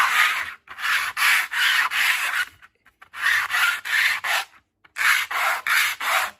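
Repeated rasping strokes of sanding plastic parts of a MiniArt ruined city building model, grouped in bursts of several quick back-and-forth rubs with short pauses between, close and fairly loud.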